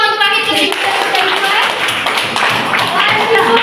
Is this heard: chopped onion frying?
no